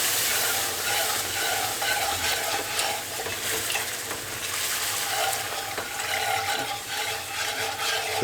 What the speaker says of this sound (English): I'm going to put some water in here.